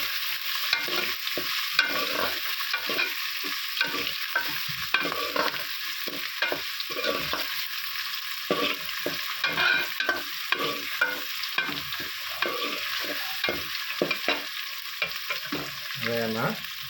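Tomatoes hitting a pan of soaked chickpeas frying in tempering oil, with loud continuous sizzling broken by frequent scraping and clattering stirs from a spoon, close and without talk.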